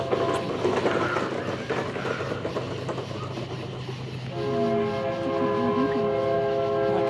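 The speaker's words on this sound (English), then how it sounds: "And here comes the train." A train rumbles past at night in Vian, Oklahoma, with a steady clattering roar, then its horn blasts loud and sustained partway through, close by.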